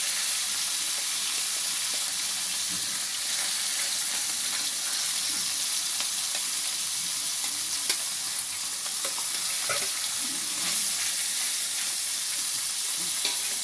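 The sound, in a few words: mourola fish frying in hot oil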